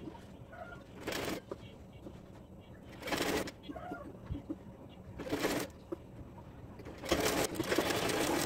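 A sewing machine stitches sleeve piping on a cotton baby chemise in short bursts, three or four quick whirring runs separated by quiet pauses, fairly faint in a room.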